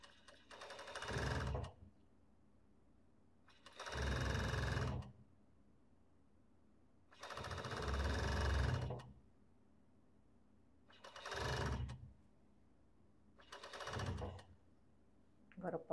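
A sewing machine stitches the sleeve of a long-sleeved robe in five separate bursts of rapid, buzzing needle strokes, each lasting one to two seconds, separated by quiet pauses as the fabric is repositioned.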